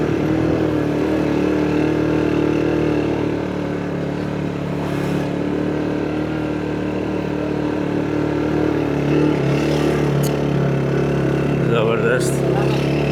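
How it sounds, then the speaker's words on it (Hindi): Motorbike engine droning steadily as the bike rides off-road up a mountain trail from Rawalpindi toward Abbottabad, with people talking over the continuous engine noise throughout. "हमने सड़क छोड़ दी और अब इस ट्रैक पर हम बाइक पे आगे बढ़ेंगे।"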